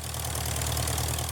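A low-flying aircraft engine, one of the green-powered planes over Provence, drones loudly and steadily at close range, filling the whole moment with an unbroken roar and no voices.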